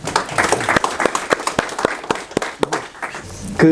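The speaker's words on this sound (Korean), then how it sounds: "박수로 환영해 주십니다" Scattered clapping from a small audience welcoming a speaker at a Korean defense policy forum, sharp individual claps spaced irregularly and fairly close, with murmured talk in the room and a voice starting at the end.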